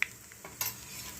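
Mustard seeds, cumin and dried chillies fry in hot oil as tempering for a brinjal and tomato chutney, a soft sizzle with light stirring taps and a brief crackle, close and fairly quiet.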